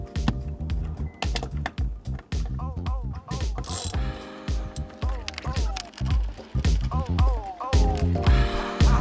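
A 10mm socket on a ratchet removes the side mirror bolts of a 2016 Ford F-150, giving bursts of close, rapid clicking with metallic handling noises, while a voice talks over parts of it.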